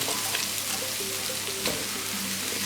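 About 700 g of halved, trimmed Brussels sprouts crackle faintly in a frying pan, a steady low sizzle with scattered pops and no voices.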